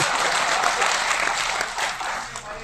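Audience at a kavi sammelan poetry recital breaking into loud, dense applause that continues throughout and tapers slightly at the end.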